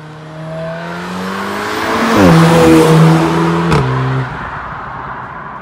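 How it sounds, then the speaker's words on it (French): An Audi RS3 engine revs up and roars as it accelerates, the exhaust note rising through gear changes before easing off, loud and close. "La différence par rapport à la sonorité du RS3 que vous connaissez bien maintenant."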